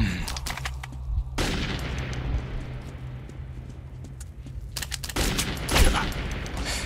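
Gunfire in the video game Metro 2033 comes in two loud, rapid bursts, one at the start and one near the end, separated by a quieter stretch of low rumbling ambience.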